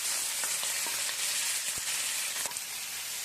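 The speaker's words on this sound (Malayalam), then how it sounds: "ഒന്ന് മൂടി വെച്ച് നന്നായിട്ടൊന്ന് വറുത്തെടുക്കാം." Prawns fry in hot oil in a pan, a constant dense sizzle close by with scattered small crackles and pops.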